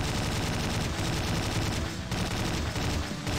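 Continuous heavy gunfire in the Slendytubbies 3 video game, a dense, loud, unbroken barrage of rapid shots with no speech.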